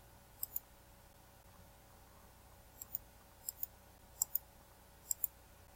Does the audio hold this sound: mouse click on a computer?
yes